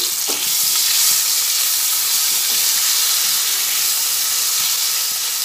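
Ginger and pointed gourd frying together in oil for a gondhoraj potol dish make a loud, constant hissing sizzle, close and even, with faint stirring knocks.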